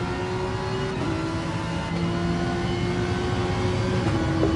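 Racing car engines in a circuit race in a racing video game, a steady close drone of several engines holding high revs with slight pitch shifts, continuous and loud with no talk.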